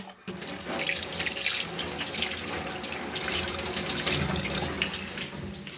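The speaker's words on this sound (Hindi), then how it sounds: "मैं हाथ धो लूँ।" Hands are washed under a running kitchen tap, a steady close rush of water splashing into the sink that continues throughout with slight shifts as the hands move, and no talk.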